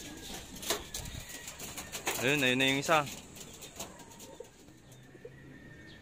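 Racing pigeons coo in a loft, one clear rolling coo standing out amid flapping and rustling, with someone speaking briefly nearby.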